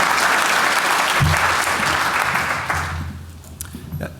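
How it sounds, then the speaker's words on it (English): A conference audience at an identity event gives a warm round of applause, dense and steady clapping that slowly tapers off toward the end, with some low thumps mixed in. "let's give our crew here a warm round of applause"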